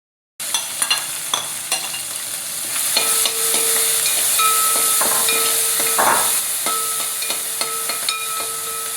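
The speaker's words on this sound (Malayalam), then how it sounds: "ഇഞ്ചി ചെറുതായി അരിഞ്ഞത്, പച്ചമുളക് വട്ടത്തിൽ അരിഞ്ഞത്, ഒരു സവാള ചെറുതായി അരിഞ്ഞത് ഇവ ചേർത്ത് വഴറ്റണം" Chopped ginger, sliced green chili and onion sauté in a pan for rava upma, a loud continuous sizzle starting abruptly, with stirring scrapes and clinks over the steady hiss, no voices.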